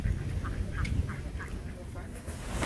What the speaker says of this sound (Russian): Утки какие-то странные, не как у нас.